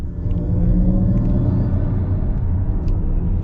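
A 2022 Mercedes-Benz EQS 450+, a rear-wheel-drive electric car, emits its synthetic drive sound. It is a steady, low, layered hum with a faint rumble, heard from inside the cabin and alone, without talk.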